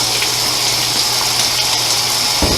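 Water gushes steadily into a washing machine drum as it fills for a load of microfiber towels and foam pads, a loud continuous rushing flow with a low hum underneath and a brief thump near the end.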